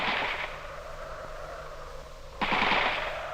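Bursts of machine gun fire in an ambush, a sustained rattling volley that fades, then a second louder burst starting near the end, with no voices.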